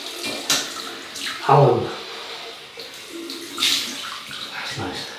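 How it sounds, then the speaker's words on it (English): Cold water runs from a tap into a sink for a rinse while shaving with a Gillette double-edge razor, a close splashing gush that rises and falls in short bursts, with a brief spoken word mixed in. "Cold water rinse"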